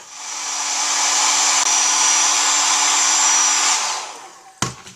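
A hair dryer, used with an iron to lift a printed name off a football shirt, blows with a loud, steady whir that ramps up, holds, then shuts off, followed by a few clunks.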